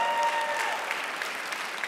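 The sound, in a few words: applause from a conference audience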